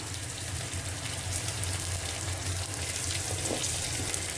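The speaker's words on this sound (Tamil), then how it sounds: "நல்ல சிம்மில் வச்சு நம்ம வதக்கிக்கலாம்" Small shallots sauté in sesame oil over a low flame, giving a steady, even sizzling hiss with a faint low hum underneath, continuous and unbroken throughout.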